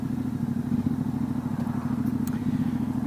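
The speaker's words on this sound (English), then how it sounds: "I just love the sound of this engine" Steady low engine rumble from a 2019 Ducati Diavel 1260 S motorcycle with Termignoni exhaust, a throaty, slightly gurgling tone holding a constant pitch rather than revving up and down.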